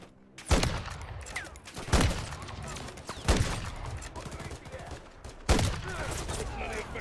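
Enemy gunners' fire erupts in the Modern Warfare 3 campaign, a dense rattle of automatic gunfire punctuated by four heavy, booming blasts at roughly even intervals, loud and close.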